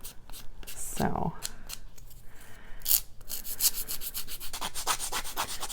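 Small scissors scrape along the edge of a mat board postage-stamp charm, giving close, dry rasping strokes in irregular bursts, with a voice talking over them.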